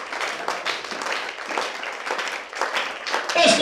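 A church congregation applauding during a French-language sermon, a brief burst of clapping from many hands, steady and fairly loud throughout, with no speech over it.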